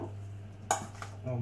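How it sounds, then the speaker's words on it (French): Utensil clinking against a dish as seasoning is mixed into ingredients for a foie gras and small vegetable papillote, one sharp clatter followed by softer scraping over a faint steady hum. "On mélange bien."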